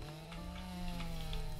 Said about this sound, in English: Chainsaws kind of are awesome.